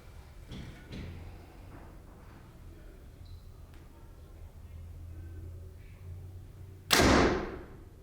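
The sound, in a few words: compound bow shot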